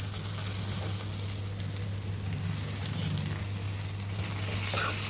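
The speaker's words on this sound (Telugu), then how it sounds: "టమాటా ఉల్లిపాయ వేగిందండి" Chopped tomatoes and onion fry in a pan for a dried fish curry, a steady, close crackling sizzle over a low constant hum, with faint stirring toward the end.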